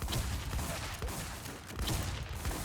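Dense, continuous gunfire from a video game shootout, with overlapping bursts that swell and ease over a few seconds and no talk.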